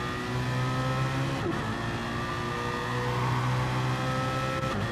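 A BMW race car engine in a sim racing video game, a steady sustained drone with a brief dip in pitch, as if lifting off the throttle, before it climbs back.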